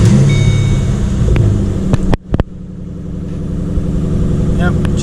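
A 2005-2009 Mustang GT, just fitted with a new crankshaft position sensor, cranks after a short pause and settles into a steady, close engine rumble.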